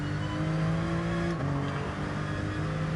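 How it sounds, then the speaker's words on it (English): Race car engine in a time-trial racing video game bouncing off the rev limiter in first gear under braking, a steady high buzzing drone with a brief stutter partway through, no talk. "Bouncing off the limiter in first gear all the way down that braking zone"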